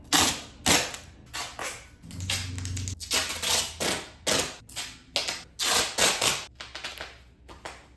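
Duct tape is pulled off the roll and torn in a series of sharp ripping bursts, fairly close and steady, while a Halloween costume is taped up at home.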